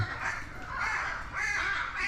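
Harsh, raspy military macaw squawks ring out repeatedly, loud and grating, overlapping in a noisy, continuous stretch of calls at a zoo.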